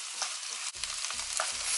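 Vegetables and cooked rice being stirred in a frying pan, with several distinct scraping strokes of a utensil over a soft continuous sizzle, close and fairly quiet.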